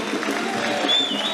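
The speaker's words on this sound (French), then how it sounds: "Vos applaudissements, vos encouragements." An audience at a stage show in Brazzaville claps, a brief dense burst of applause with crowd noise and faint voices mixed in.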